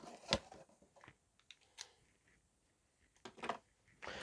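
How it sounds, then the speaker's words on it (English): Scissors snip through packaging during an unboxing, giving a few quiet, sharp cuts spaced irregularly across a soft, otherwise still background. "I know, scissors."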